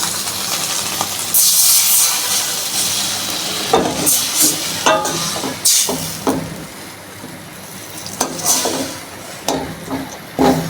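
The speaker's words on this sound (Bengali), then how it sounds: "আমি এখন সামান্য পরিমাণ জল দিয়ে দিচ্ছি।" Water splashes into a hot pan of frying prawns and water lily stems, setting off a loud burst of hissing steam and sizzle, followed by repeated stirring knocks and scrapes against the pan.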